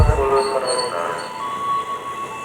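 A KRL commuter line train pulls into a busy station platform on the Rangkasbitung to Tanah Abang route, a steady rumbling wash with faint high squeals and tones over the crowd's murmur.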